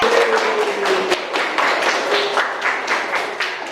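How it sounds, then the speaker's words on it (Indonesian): A school class applauds a classmate in a classroom: dense, continuous clapping from many hands at close range, steady throughout, with a faint tone running underneath. "beri tepuk tangan buat Dede"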